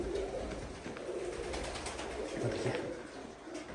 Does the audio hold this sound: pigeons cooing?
yes